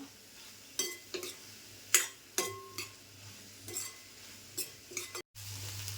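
Dried shrimp (sukka jawla) is sautéed in a pan, with a faint sizzle under scattered scrapes and clinks of a spatula stirring against metal, several sharp strokes spaced irregularly, fairly close.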